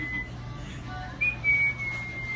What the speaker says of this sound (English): Are you trying to whistle?